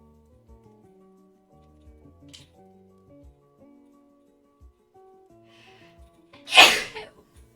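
A single sharp sneeze bursts out near the end after quiet, sparse background noises.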